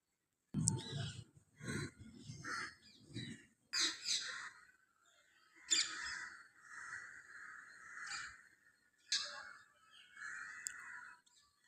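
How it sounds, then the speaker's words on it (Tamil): Parrots calling in scattered bursts of harsh squawks and raspy chatter, separated by short silences, at moderate distance in an otherwise quiet setting. "கிளிகளின் சத்தம்"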